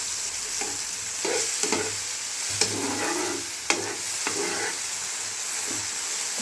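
Mushrooms and garlic sauté in a hot pan, a constant close sizzle broken by repeated spatula stirs and scrapes, with a few sharp knocks against the pan and no talking.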